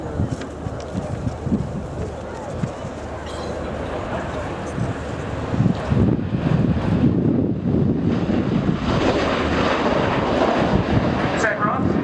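A CV-22 Osprey tiltrotor of the 7th Special Operations Squadron flying at the RIAT 2015 air show, a loud continuous rotor and engine roar that swells midway, with wind buffeting the microphone.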